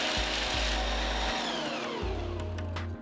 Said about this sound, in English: transfer all the nuts to a food processor and grind them to a nice coarse mixture